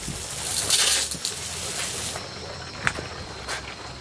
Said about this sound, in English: turn the water back on the faucet